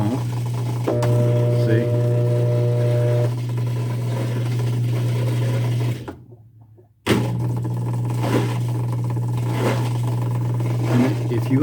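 A Kenmore top-load washer motor strains against a steady low hum, dropping out for about a second before the drone returns with faint rhythmic surges; a person speaks briefly over it.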